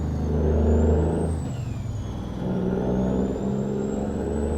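Kenworth truck in American Truck Simulator, hauling logs on narrow roads in Mexico: a steady low diesel engine drone with a rising and falling whine, shifting in pitch as it revs, loud and close with no talk.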